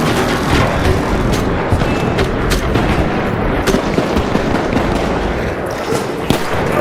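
Heavy gunfire pours continuously at the Queen's leg during an Arc Raiders fight, dense rapid shots and blasts layered into a loud, unbroken barrage that lasts throughout.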